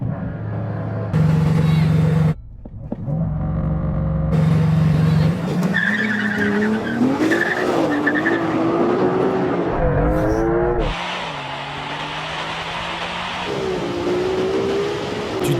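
A Porsche 911 Turbo S and a Ferrari 296 launch side by side in a drag race, with loud engines revving, tires squealing and both cars roaring off while an excited commentator talks over the action.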